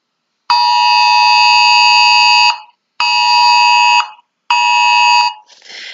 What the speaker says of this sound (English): it is familiar to all of us because of the National Weather Broadcasting Service that tests their service on the TV